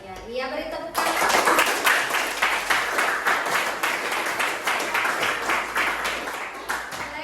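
A classroom of students gives a round of clapping, starting abruptly after a brief voice and continuing as steady, close, uneven claps for several seconds.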